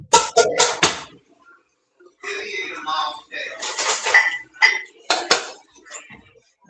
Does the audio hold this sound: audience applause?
no